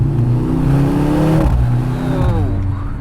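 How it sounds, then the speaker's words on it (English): Up close, a 670 bhp hybrid Mercedes-AMG C63 without a V8 revs hard and climbs in pitch as it accelerates, then a gear change and the revs continue to rise. "As soon as you put your foot down, the electric motor gives you that initial torque"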